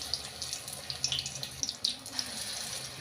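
Battered vegetarian cauliflower chops fry in hot oil, giving a soft continuous hiss with scattered light crackles and pops close by.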